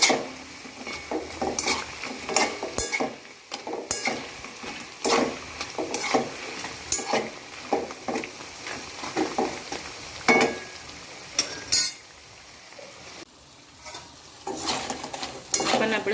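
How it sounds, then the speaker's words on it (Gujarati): Methi mathri deep frying in oil over a medium flame, a soft sizzle beneath repeated scraping and clinking of a metal spoon against the pan in irregular bursts. "આ રીતના મીડિયમ ગેસ પર જ તળવાનું છે"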